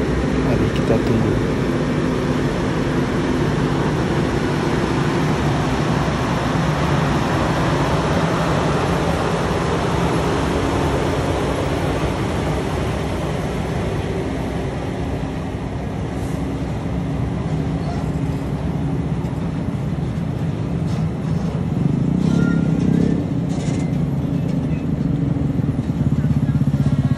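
A heavy Nissan Quester truck grinds up the steep Sitinjau Lauik mountain road, a loud continuous low engine drone with road rumble that swells and shifts over the whole stretch.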